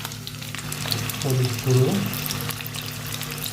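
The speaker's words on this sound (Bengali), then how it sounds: "তেলের উপরে আলুগুলো দিয়ে দেবো" Potatoes fry in hot oil on a gas stove for a chicken curry, giving a steady close sizzle with a brief louder burst of bubbling. A person talks briefly over it.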